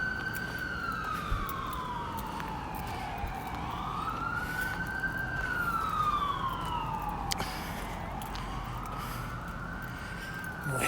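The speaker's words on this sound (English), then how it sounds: "I apologize for the siren." An emergency vehicle siren near a hilltop cemetery in Pikeville, Kentucky, rising and falling in slow wailing sweeps as it passes along the roadway below, loud and steady over faint traffic rumble.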